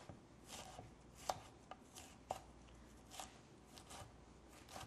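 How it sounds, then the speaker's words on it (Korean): A knife chops bell pepper into small, meat-sized pieces on a cutting board: a dozen or so crisp, irregular taps, a few sharper and louder, close by with no talking. "그리고 이거 파프리카도 고기 사이즈만하게 잘게 이렇게 썰어줄 거예요"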